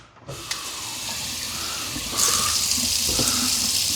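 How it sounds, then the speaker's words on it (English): Water gushes steadily from an apartment faucet during drain cleaning, starting abruptly and growing louder partway through, a continuous close rushing stream with no talking. "You guys know we had the water running the whole time"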